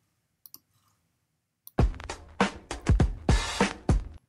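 Pitched-up drum beat sample triggered in Kontakt: after a couple of faint clicks and a pause, a loud run of sharp punchy hits with bright transients plays in a quick irregular rhythm, dry and close.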